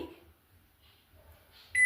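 Electronic beep from a microwave oven's control panel as a button is pressed, one short, clear tone at the very end after a near-silent pause, with faint handling noise earlier.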